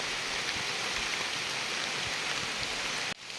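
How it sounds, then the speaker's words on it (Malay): Heavy tropical rain pours down on a mountain hiking trail in a dense, steady hiss, close and loud, stopping abruptly just before the end. "Hujan lebat sangat."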